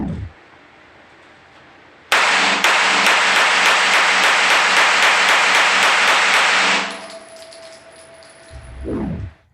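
A 9mm semi-automatic pistol fires a fast burst of about a dozen sharp, evenly spaced shots lasting several seconds, loud and close, followed by quieter handling noise.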